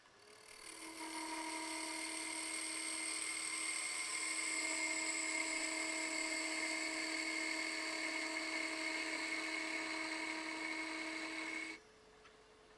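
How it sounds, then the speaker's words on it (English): A steady high-pitched whine of a wood lathe taking a peeling cut on a Christmas tree ornament runs for about ten seconds with a sustained tonal hum, then cuts off abruptly. "I'm going to take a peeling cut to bring the end down to where the ball is going to be"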